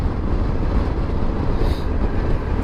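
A cargo train rumbles past close by in a steady, loud wash of rolling noise, heard from a motorcycle on a road in Switzerland.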